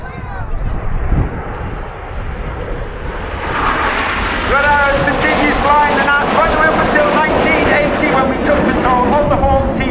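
Red Arrows jet aircraft flying past during a display, the engine roar rising from a distant hiss into a loud sweeping whoosh, with a commentator's voice over the top.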